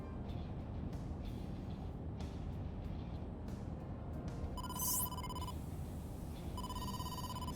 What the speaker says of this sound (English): Date, incoming call from the boss.